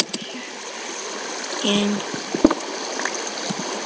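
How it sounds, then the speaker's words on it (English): Running water in a Minecraft cave, a steady trickling stream with a few soft splashes and clicks underneath, while someone talks over it. "yeah, there's definitely water."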